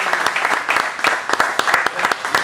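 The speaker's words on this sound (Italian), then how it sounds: "Un bel applauso ai Demolition." Lively applause from an audience honouring the winning team at a sports awards presentation, dense rapid clapping loud and close, with a few voices mixed underneath.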